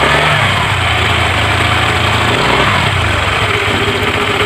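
A Honda Vario 125 scooter engine with a leaking radiator runs close and loud, its idle chugging steadily as the throttle is blipped for brief revs.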